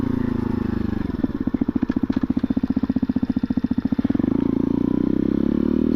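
A 2021 Bullit Hero motorcycle on knobbly tyres, ridden off-road through mud, its engine thumping in a steady rapid pulse close by, then swelling into a louder, smoother rev toward the end.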